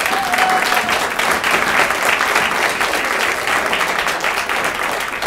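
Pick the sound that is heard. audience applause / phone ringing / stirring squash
audience applause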